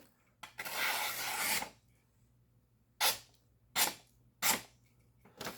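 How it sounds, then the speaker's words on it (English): Rasping strokes of a KaBar Dozier D2 steel knife edge being stropped: one long drawn stroke followed by three short, evenly spaced swipes, close and clear against a quiet background. "I'll strop it just to make sure there's no burrs"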